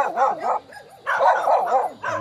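A dog on a one-hectare farm lot in Magdalena, Laguna gives a run of close, loud yelping barks and whines in three quick bursts, with no talking over it.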